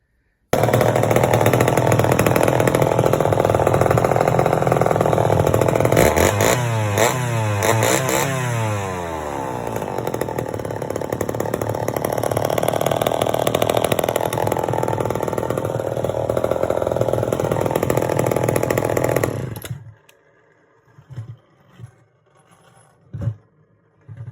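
A loud chainsaw engine runs steadily, revving up and down with a rising whine partway through, then cuts off abruptly, leaving faint clicks and knocks.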